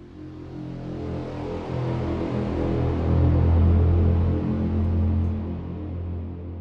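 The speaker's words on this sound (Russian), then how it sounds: "для этого я как бы добавляю конкретно на него ревербератор" A trailer music track plays a sound drenched in added reverb, a dense, washy sustained texture with a low rumbling swell that rises and fades, heard alone without talk.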